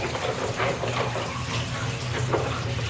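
Tap water runs steadily while potatoes are rinsed in a home kitchen, a continuous close splashing wash with no talk over it.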